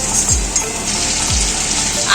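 Prawns frying lightly in oil in a pan for a Bengali ridge gourd and prawn dish, a close, continuous sizzle with a couple of soft stirring thumps, and no talk.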